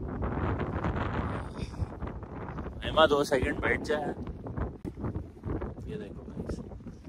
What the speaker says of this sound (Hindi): ये देखो पीछे से हवा चल रही है, कपड़े पे हवा लग रही है